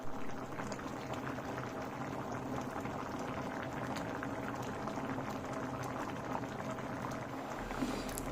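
A pot of bele soppina saaru, a lentil and greens curry with tamarind water, boiling hard on the stove: dense, continuous bubbling and popping close up, steady throughout with no voices.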